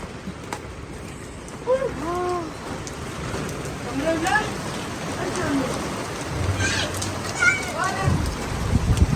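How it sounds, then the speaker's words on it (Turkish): Steady rain patters on surfaces outdoors during a sudden downpour, a continuous wash of drops with a few scattered knocks and thumps, while a person's voice is faintly audible at times. "yağmur birdenbire yağmaya başladı"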